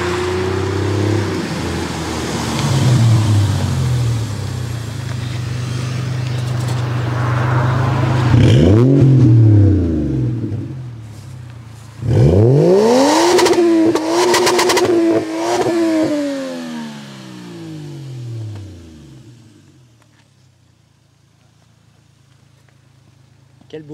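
Toyota Mark II Blit wagon engine revving in several rising and falling sweeps, loud and close, with a turbo audible, as people talk over and between the revs.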